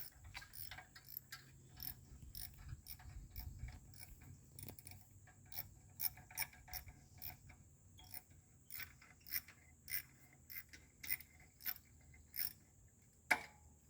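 Ratchet wrench taking 10mm nuts off a turbo wastegate actuator on a 2011-2015 Chevy Cruze: faint, quiet clicking in irregular bursts, close by with a low background hum and one sharper knock near the end.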